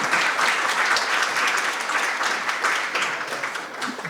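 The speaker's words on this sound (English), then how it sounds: "Round of applause for Penguin Random House," A sustained round of audience applause at an opening-remarks event for a writing and social change gathering, steady, dense clapping from a crowd heard at a moderate distance.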